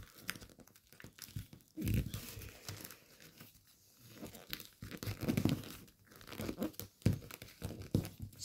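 Origami paper being folded while making a fighter jet model, with soft crinkles and crisp creasing rustles in short, irregular bursts close by, separated by quiet pauses.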